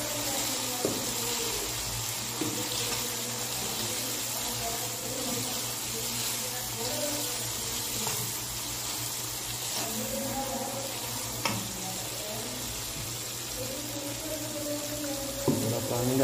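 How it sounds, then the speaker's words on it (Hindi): Water poured into a hot pan of chili-powder masala for macaroni, producing a steady close hiss and sizzle that runs unbroken throughout, with small bubbling pops and faint clinks on top. "थोड़ा पानी डाल देते हैं"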